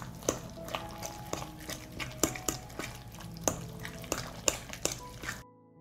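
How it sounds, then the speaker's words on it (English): Ground red pepper, lemon juice and other ingredients being stirred together in a bowl, with repeated clinking and scraping of a utensil against the dish in an irregular rhythm, close and moderately loud, no talking. "I'm going to mix it all together."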